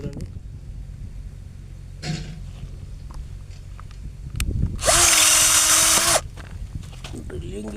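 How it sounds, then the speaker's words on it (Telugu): A power drill bores into PVC drip irrigation pipe in one loud, whining burst lasting about a second, with a brief shorter whir before it, alongside rustling handling sounds and someone speaking. "డ్రిల్లింగ్ చేయడం జరుగుతుంది."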